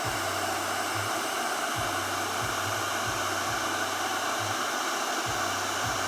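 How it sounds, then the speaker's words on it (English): A hair dryer blows steadily and loudly while drying ink, a constant airy roar with a low, pulsing hum underneath. "sorry for the hair dryer, I'm trying to make this ink dry faster"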